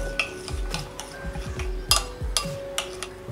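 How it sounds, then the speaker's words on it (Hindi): A spoon stirs soaked and strained tamarind pulp into spicy masala in a pan for achari aloo. Repeated scraping and clinks of metal on the pan come at close range over a faint background hum. "इसको मिक्स करेंगे।"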